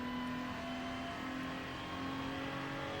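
Ferrari 296 race car in the iRacing sim, its engine giving a steady, fairly quiet droning tone with a constant pitch, heard alone with no talk.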